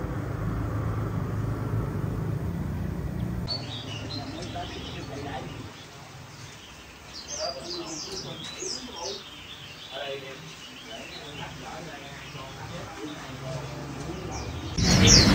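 A Japanese white-eye songbird in new plumage sings in bright, rapid chirps and warbling trills, fairly close, over background noise, with a lower rumble early on and a sharp noise at the end.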